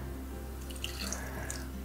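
Fresh lemon juice is poured into a Thermo Cook Pro M 2.0 kitchen machine, giving a steady, close liquid trickle and splash that runs throughout with no voices.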